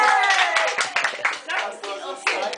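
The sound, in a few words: hands clapping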